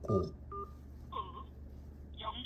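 Telephone keypad tones ring out as a phone number is dialed, several short, clear beeps at uneven intervals, close and fairly quiet over a low background hum.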